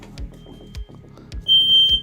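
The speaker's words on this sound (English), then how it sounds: "we got a smoke alarm going off here, guys" A kitchen smoke alarm goes off with a shrill, high electronic beep, heard close and loud among a few low thumps in an otherwise quiet room.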